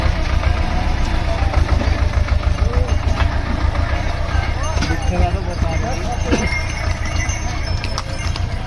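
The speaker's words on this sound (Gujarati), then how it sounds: "કેદારનાથના રસ્તા ઉપર મિની ટ્રેક્ટર ઉપરથી નીચે જઈ રહ્યું છે" A mini tractor engine chugs steadily with a rapid rhythmic knock as it drives downhill on the Kedarnath trail, mixed with clopping hooves and a voice talking over it.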